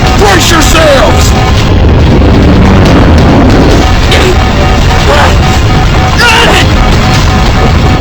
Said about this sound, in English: Detonation confirmed.